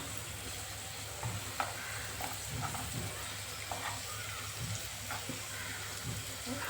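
Horse gram pithi and potato slices sizzle steadily in a pan, a continuous close frying hiss broken by soft scrapes and taps as the slices are flipped.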